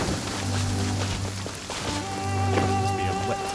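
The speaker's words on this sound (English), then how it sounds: "It's rain." Rain falling in the video game Genshin Impact, a steady soft patter of drops under sustained tonal game music, continuous and fairly even throughout.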